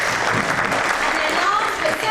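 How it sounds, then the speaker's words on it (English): A student election question-time crowd keeps up steady, dense applause, loud and continuous throughout without a break. "Can we please have a round of applause?"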